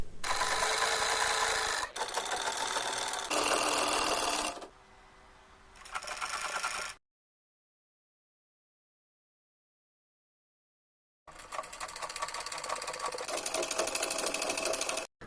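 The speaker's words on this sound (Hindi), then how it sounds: "इस पट्टी को हम नीचे बॉटम से स्टिच करना स्टार्ट करेंगे और दूसरे बॉटम तक स्टिच करेंगे।" A sewing machine stitches a 2-inch fabric strip for the neck piping of a tie-up peplum top, running in loud bursts of rapid mechanical whirring, with a quieter segment and a long silent gap before the stitching resumes.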